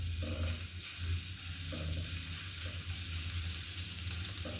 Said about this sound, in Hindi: लहसुन को हल्का सा पकाएंगे, ज़्यादा नहीं पकाना है इसको।